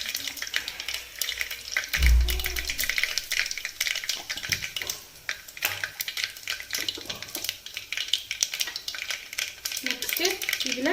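Dried red chillies frying in hot oil give a steady, close crackling sizzle, with a dull knock of the pan near the start and busy spattering throughout.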